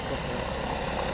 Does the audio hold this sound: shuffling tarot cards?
no